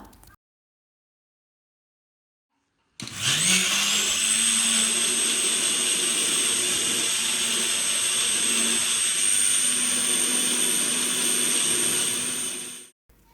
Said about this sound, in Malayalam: കുറച്ച് വെള്ളം ഒഴിച്ചിട്ട് നല്ല ഫൈൻ പേസ്റ്റായിട്ട് തേങ്ങ ഒന്ന് അരച്ചെടുക്കുക